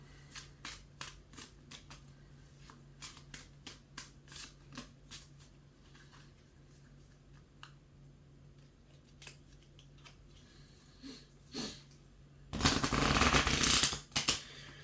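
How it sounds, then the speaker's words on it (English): Tarot cards are handled with a run of soft riffling flicks and taps, then shuffled in one loud, dense burst lasting about a second and a half, close by in a quiet room. "I'm going to give this a nice shuffle"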